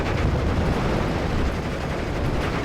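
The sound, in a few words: strafing gunfire on flak gun, Steel Division: Normandy 44 video game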